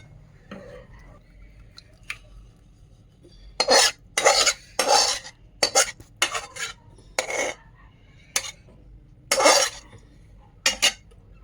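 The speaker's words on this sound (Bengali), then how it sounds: "এইভাবে একটু নাড়িয়ে নেবো।" Stirring kheer filling in a pan with the gas turned off: irregular scraping and clinking of a utensil against the pan in bursts of strokes, close and fairly loud after a quiet start.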